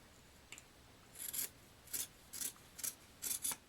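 Scissors cut through a T-shirt in a series of short, crisp snips and fabric rasps, some coming in quick pairs, close and quiet with no talking.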